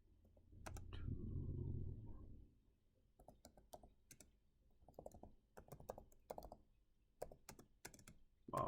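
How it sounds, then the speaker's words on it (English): Close, irregular clicks of typing on a computer keyboard, coming in short bursts with pauses between, after a brief low murmur at the start. "I am not spelling or typing correctly at the moment"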